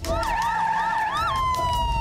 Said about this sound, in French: Oh yeah, the ambulance.